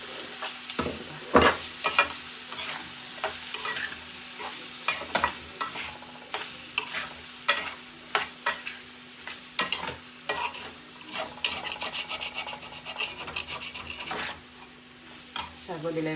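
Potatoes and taro fry in a pan with a constant low sizzle, while a utensil stirs them in sharp, regular scraping strokes roughly every second, up close.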